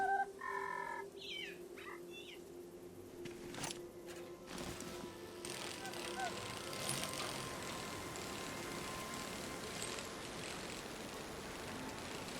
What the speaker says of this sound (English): This bird sounds like a genius